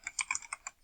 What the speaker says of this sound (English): I'm going to type in video